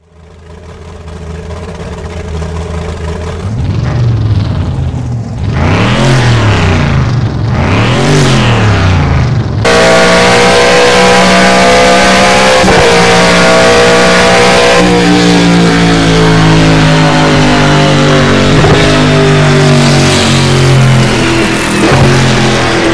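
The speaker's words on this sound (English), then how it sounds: "The car sounds have personality and they react to the environments as well." A race car engine in the racing game Project CARS revs and climbs through the gears, loud and continuous, the pitch rising and falling in sweeps before settling into a sustained high-revving drone.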